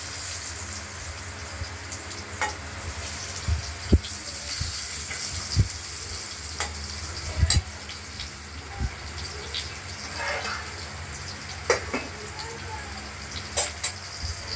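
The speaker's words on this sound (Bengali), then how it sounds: "আলুগুলোকে আমরা একটু ভাজা ভাজা করে দেবো।" Potatoes fry with a steady low sizzle throughout, broken by occasional sharp clinks and scrapes of a utensil against a pan, with no voices.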